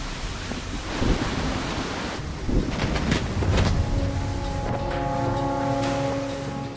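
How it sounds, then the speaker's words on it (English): Roaring gusts of a Category 4 hurricane batter the Florida coast, a dense broadband wall of wind and surf noise swelling in heavy surges, with no voices. "the eye of this punishing Category 4 hurricane is just off the Florida coast and battering the land with gusts of over 180 kilometers an hour"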